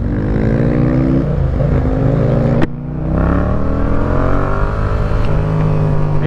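A BMW S1000RR motorcycle engine rides downhill with a loud, close, high-pitched wail, shifting pitch through gear changes with a sharp crack midway before climbing again, and no voices over it.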